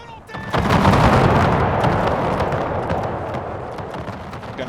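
Massed musket and cannon fire in the battle video game Napoleon: Total War, a loud crackling roar of volleys that erupts suddenly, then slowly fades while scattered shots continue.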